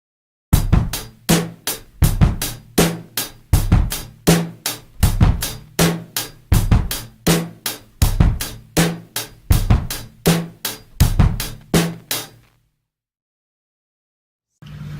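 A drum kit plays a 16th-note bass drum groove with the extra kick on the e of 1, a tight, loud and even pattern of kick, snare and hi-hat hits repeating for about twelve seconds before cutting to silence.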